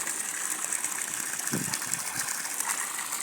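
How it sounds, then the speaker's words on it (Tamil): Water gushes from the outlet of a motor pump into a well on a small farm grove, making a steady, continuous hissing rush with a faint engine-like hum underneath. "இந்தளவுக்கு தண்ணி மோட்டர் தண்ணி விழுந்துட்டுருக்குங்க."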